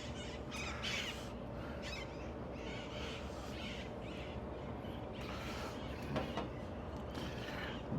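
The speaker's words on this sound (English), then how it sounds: "Damn birds disrespectful." Crows squawk and caw in faint, scattered calls outdoors over a constant broadband background noise.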